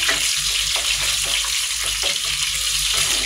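Garlic sizzles and fries in hot oil in a pan, a loud, steady crackling hiss with occasional stirring scrapes, close up and without talk.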